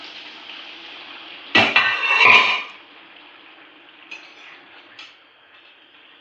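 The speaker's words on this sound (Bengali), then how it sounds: "নাড়াচাড়া করে নেব।" Chili chicken with cumin stirred in a pan, heard as two short bursts of scraping and clattering against the metal, with faint clinks afterwards over a quiet background.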